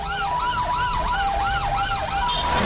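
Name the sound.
ambulance siren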